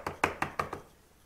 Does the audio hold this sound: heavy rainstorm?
no